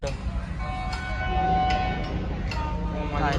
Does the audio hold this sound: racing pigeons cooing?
no